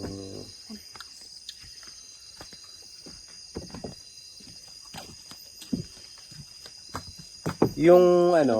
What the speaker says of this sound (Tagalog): Yung mga Kuliglig tunog siya.